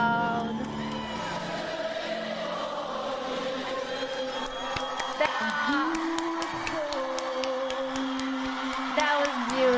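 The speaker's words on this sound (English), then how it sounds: "Nice, the crowd." A big stadium crowd at a 1996 Wembley concert cheers and whoops at length alongside live music, while a listener talks over the roar.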